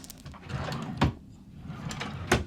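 Inside a Carnival Panorama balcony cruise cabin, a drawer is opened or closed with two sharp wooden clunks about a second apart, heard up close over faint room noise.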